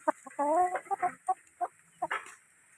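A series of short clucking and squawking bursts from roosters, close by, in irregular pulses with brief pauses between calls.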